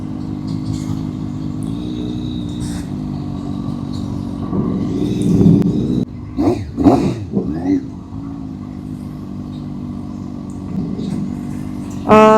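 Street traffic heard while riding a CFMoto 750SR-S motorcycle: a steady low engine and road rumble runs throughout, with a louder passing burst midway, and someone talks over it.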